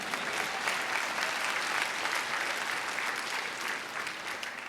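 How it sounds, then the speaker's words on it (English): Steady applause from a sizeable crowd in the Illinois House of Representatives chamber at an inauguration, continuous and fairly loud throughout, with no talking over it. "You can clap for that."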